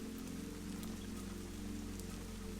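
Steady rain falling on a farm, a soft continuous patter with occasional faint drops over a low hum, alone with no voices.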